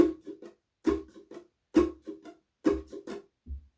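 Short ukulele jazz strums in a steady, clipped rhythm, four bright chords each followed by quick muted chops, ticking like an old Buick's turn signal, close and alone.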